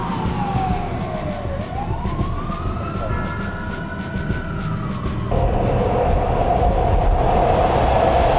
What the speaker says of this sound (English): The Bay Area Rapid Transit, San Francisco's underground train system